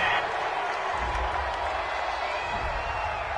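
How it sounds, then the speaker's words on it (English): A home football crowd at a Pittsburgh vs Bills game roars steadily after a referee's penalty call, a dense distant wash of cheering and applause with a broadcast voice beneath it. "This home crowd, they're happy with that call."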